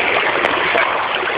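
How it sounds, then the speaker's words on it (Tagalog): Loud, rushing water flowing continuously nearby, a steady broadband roar like a river current. "Ito na ang ilog."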